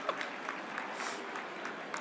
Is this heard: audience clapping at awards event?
yes